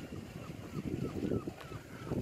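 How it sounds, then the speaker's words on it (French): Gusty wind buffeting a microphone outdoors on a summer holiday, a steady low rumble of wind noise throughout with no clear speech. "il y a un petit peu de vent"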